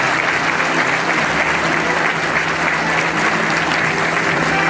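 Loud, continuous applause from a large audience at a formal public event, a thick unbroken wash of clapping that holds at steady volume throughout.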